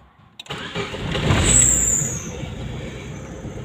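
A Daewoo Nexia 1 engine with a faulty oil pressure sensor cranks and catches, then settles into a steady idle with a faint high whine, close by.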